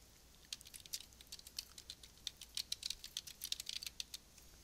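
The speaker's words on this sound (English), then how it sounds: "Then I'll type a shortened version of the title of the paper" Computer keyboard keys clicking in a quick, irregular run of light taps for several seconds, quiet and close, with no talking.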